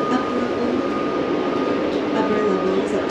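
Train interior in Japan on a day trip from Osaka, with a steady, loud rumble of the moving carriage filling the whole stretch and faint talk mixed in.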